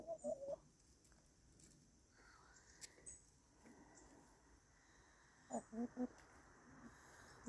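Backyard chickens clucking in short bursts near the start and again later, with quiet gaps and faint background sounds between, no speech.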